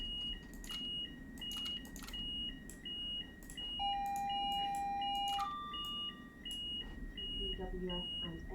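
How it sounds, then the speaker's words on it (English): Repeated electronic warning beeps chime in a train cab in Train Simulator, a steady rhythmic pattern joined by a longer tone and a few other cab alerts, alongside speech. "Well, something's beeping."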